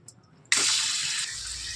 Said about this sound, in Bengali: চিকেনটাকে আমি একটু তেলেতে ভেজে নিচ্ছি